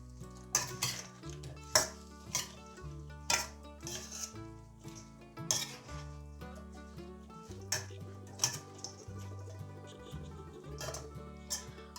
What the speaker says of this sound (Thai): คลุกจนน้ำซอสเคลือบตัวปลาดีแล้ว